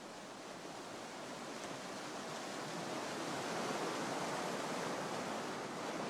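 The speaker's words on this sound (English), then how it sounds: "Dozens of rapids dapple the haze." River rapids roar as a dense, continuous rush of churning water, broad and steady with a slight swell midway, heard with no other sound.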